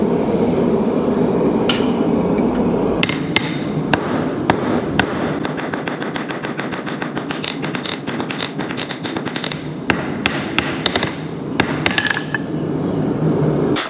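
Hand forging a campfire meat hook from 1/4 inch hot-rolled steel, with rapid ringing hammer taps on the anvil, sparse at first and then a fast steady run of metallic clinks over a constant background hum.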